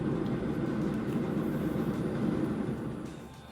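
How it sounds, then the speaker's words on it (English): A train passes nearby with a steady, loud, broad rumble that stays level for several seconds, then begins to fade near the end. No one speaks. "Oh, train's coming"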